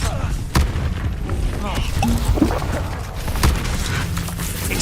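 Confringo fire spells from the Hogwarts Legacy video game detonate in a few loud, close booms during a duel, with crackling magic between the blasts and voices shouting over the fight.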